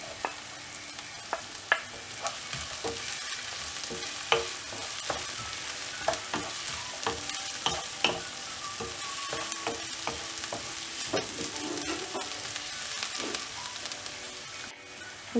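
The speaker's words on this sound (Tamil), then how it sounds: "இப்போது பூண்டு ஆட் பண்ணிவிட்டு இந்த எண்ணெயிலே நல்லா வதக்கி விடணும்." Garlic sautéing in hot oil for a spicy fenugreek leaf gravy, a steady close sizzle broken by frequent sharp scrapes and taps of a spoon stirring in the pan, with no talking.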